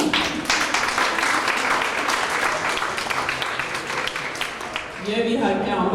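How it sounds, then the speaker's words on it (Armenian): An audience at the closing of a short film festival applauds with sustained, dense clapping from a full room, dipping slightly near the end as a voice starts speaking over it. "ուզում եմ հատուկ ծափահարել"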